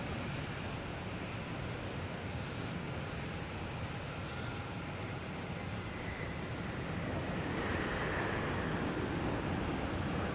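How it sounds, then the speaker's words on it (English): A British Airways airliner roars steadily at Boston Logan Airport, a loud, continuous broadband engine rumble that holds for the whole stretch without letting up. "in 2 seconds we have British Airways"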